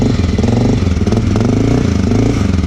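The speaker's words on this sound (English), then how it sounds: "This is without the this is with the silencer in, so it's pretty loud." A Honda XR650L motorcycle with a Lexx exhaust and the silencer fitted idles loudly and close, its single-cylinder thump pulsing steadily and unbroken.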